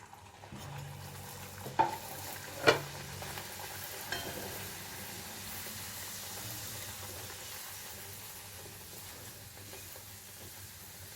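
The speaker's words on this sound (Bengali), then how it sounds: "তেল গরমও হয়ে গেছে এবারে আমি লুচিগুলো ছাড়ছি" Luchi dropped into hot oil in an iron kadai: a soft, steady bubbling hiss that carries on faintly throughout, with a couple of brief clinks near the start.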